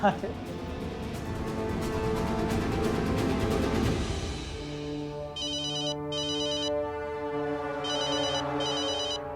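A phone rings repeatedly in electronic bursts, with a steady musical tone underneath and talking over the start.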